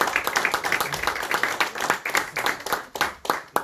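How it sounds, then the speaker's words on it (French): An audience at a press conference for a rapper claps steadily and fairly close, a dense, continuous patter of hands that stays even throughout. "Les applaudissements,"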